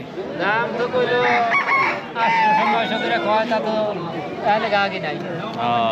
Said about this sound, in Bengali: দেশি হাঁস মুরগি এখানে বিক্রি করছেন